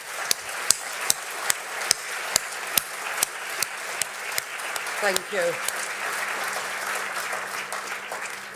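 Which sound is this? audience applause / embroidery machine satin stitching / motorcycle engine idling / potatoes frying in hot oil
audience applause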